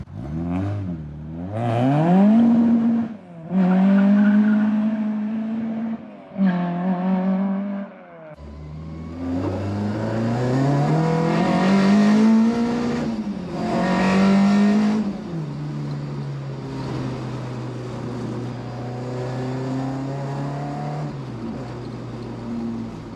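A Ford Escort Mk1 with an ST170 engine revs and accelerates repeatedly up close, rising and falling in pitch, then settles into a steady driving drone with gear changes.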